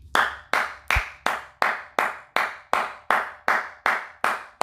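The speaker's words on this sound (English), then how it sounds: "Those are the claps of "I told you so," people." One person claps alone in a slow, even beat, about a dozen sharp, close claps spaced evenly apart.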